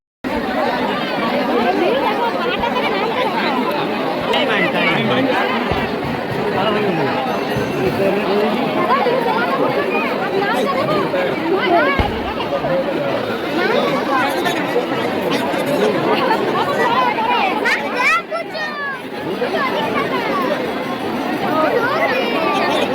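Dense crowd chatter on a packed road outside the Mrinmoyee temple on Ashtami after cannon firing: a continuous, loud babble of many overlapping voices nearby, with no pauses throughout.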